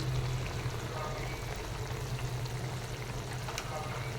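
Steady low bubbling and sizzling of tomato gravy simmering in a pan on the stove, continuous and close, with no talking.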